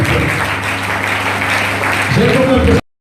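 A church congregation claps together in a dense, steady wash of applause, swelling louder near the end alongside voices before cutting off abruptly.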